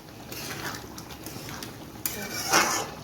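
A spoon scrapes and clinks against a pot while meat curry with whole garam masala is stirred, several short metallic knocks ending in a louder clatter near the end, close by with no speech.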